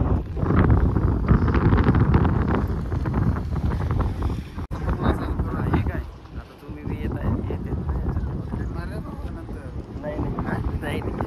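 Strong wind buffets the microphone outdoors near a windmill, producing a loud, continuous roaring rush that nearly masks someone speaking throughout.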